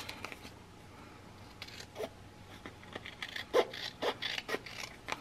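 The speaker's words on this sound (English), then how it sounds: "But I'm going to grab my scissors." Scissors snip through paper in a few quiet, close cuts, with soft rustling and scraping between the snips.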